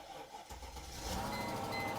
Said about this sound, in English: the noise that I'm hearing from this engine is a bit of a popping sound, and it's random